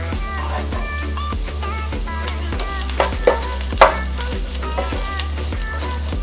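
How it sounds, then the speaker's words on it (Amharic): Garlic, carrot and vegetables fry in a hot pan with a constant sizzle, under repeated close scraping and stirring strokes and a few sharper clinks of the utensil. "አሁን ነጭ ሽንኩርቱን ካሮቱን በኋላ ዝኩኒውን አረጋለሁ።"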